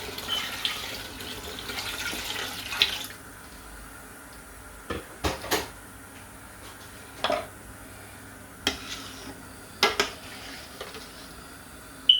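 Water poured into a cooking pot for jollof rice, a steady pouring stream for the first few seconds followed by scattered clinks and knocks of kitchen utensils, near and moderate with no talking.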